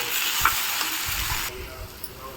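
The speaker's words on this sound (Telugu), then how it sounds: "దానిలో కొద్దిగా సరిపడా ఉప్పు వేసుకొని కలుపుకోవాలి" Salt being stirred into raw banana curry frying in a pan: a close, continuous sizzle under scraping stirring strokes that eases slightly midway, with no voices.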